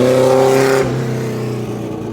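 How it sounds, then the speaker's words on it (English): A kei truck engine revs hard and loud up close, with a brief high wail that drops away into a lower, rougher drone as the throttle eases off. "That's gotta be the loudest K truck I've ever witnessed."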